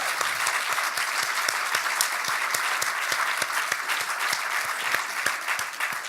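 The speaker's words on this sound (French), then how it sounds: "je voudrais aussi vraiment qu'on applaudisse vraiment Bwanga et Gorgeous Oklu" Steady applause from an audience at a live film screening Q&A, dense clapping sustained throughout with no voices over it.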